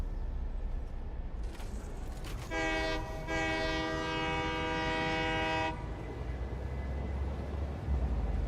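A train in the video game Satisfactory runs with a low mechanical rumble, then a loud, sustained horn blast of around three seconds, broken by a brief gap, over steady rolling noise.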